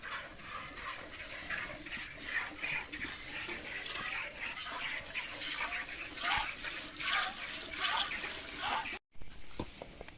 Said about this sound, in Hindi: खुराक के अंदर अभी से पानी डाला जा रहा है।